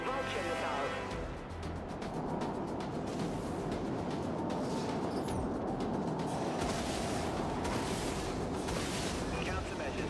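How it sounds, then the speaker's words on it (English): Vulture missiles launch in the space combat game Dreadnought, a dense, sustained roar of rocket fire and explosive rumble that fills the whole stretch, with a synthetic ship voice speaking over it. "Launching vulture missiles."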